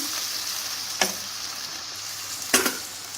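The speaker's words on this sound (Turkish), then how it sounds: "Şimdi Güzel salçamı da kıymama yediriyorum." Minced meat sizzles steadily in a pan as tomato paste is stirred in, with two sharp scraping spoon strokes against the pan about a second and a half apart, and no one talking.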